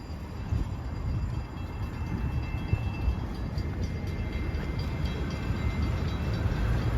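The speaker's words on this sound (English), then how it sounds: "Now let's record the M3 departing." Long Island Rail Road M3 electric train pulling away from a station, a steady, loud broadband rumble with a faint high whine running continuously and building slightly, no voices over it.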